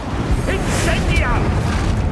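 A fire spell cast in Hogwarts Legacy during a hard-difficulty battle, a loud roaring burst amid a dense, continuous clamor of combat effects and shouted voices.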